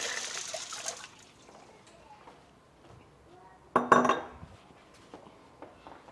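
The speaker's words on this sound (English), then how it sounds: "here's some more ice water" Quiet kitchen sounds with a soft trickle of water, then a sudden clatter of ice cubes clinking into a container of ice water before settling.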